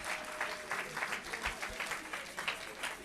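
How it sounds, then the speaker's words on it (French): A church congregation claps along, soft and somewhat distant, in a loose rhythmic pulse of hand claps repeating every fraction of a second. "You can clap your hand while I'm fixing this."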